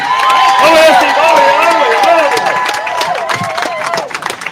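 A crowd applauds and cheers a solo Atlantic rower at the race finish, dense clapping and whoops mixed with excited voices, loud and close, gradually thinning toward the end.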